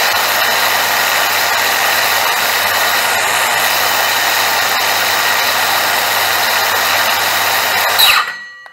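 A budget brushless cordless circular saw spins unloaded at top speed, a loud steady high-pitched whine that holds evenly before the trigger is released and the motor winds down at the end.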